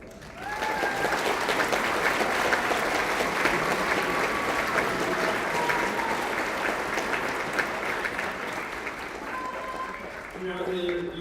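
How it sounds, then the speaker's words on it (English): A large audience at an Evening of Excellence event applauds performers in a loud, dense, sustained wash of clapping, with voices and cheering mixed in before it tapers near the end. "Give them a huge round of applause."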